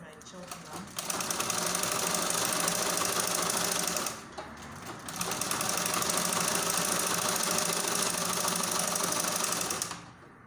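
Sewing machine stitching a butterfly gown, a rapid mechanical whirring run close by that stops briefly near the middle, then resumes for a second long stretch before cutting off.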